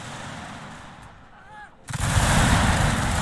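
Musket volley gunfire in the video game Shogun 2: Fall of the Samurai, a quiet stretch of battlefield noise then a sudden loud, dense burst of rifle fire that keeps rolling to the end.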